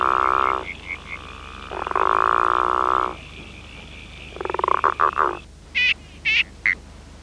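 Frog croaks play on a frog web page: long sustained buzzing croaks, then a rapid stuttering series of short croaks, ending with a few higher clipped calls, loud and alone over faint background hum.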